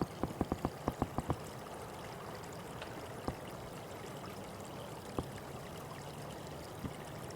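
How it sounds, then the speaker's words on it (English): Running water from a small waterfall on a forest trail in Tyler State Park makes a steady, soft rushing stream, with a quick cluster of sharp taps early on and a few isolated knocks later. "Got a little bit of a waterfall here"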